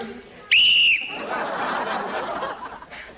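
Referee's whistle blown once in a single shrill blast lasting about half a second, loud and clear, with faint background chatter before and after; set in a high school basketball comedy series.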